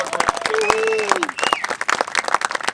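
Audience applause for Seth at a van build gathering, a burst of clapping from a crowd with whistles and voices mixed in, fairly close and lively, tapering into scattered claps.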